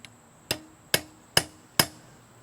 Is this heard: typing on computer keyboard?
no